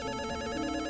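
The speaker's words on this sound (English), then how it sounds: "A phone call?" A telephone rings inside a video game, a steady electronic ringing tone that fills the whole short moment, loud and continuous with no talk over it.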